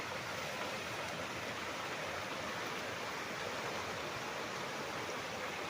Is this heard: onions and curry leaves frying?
no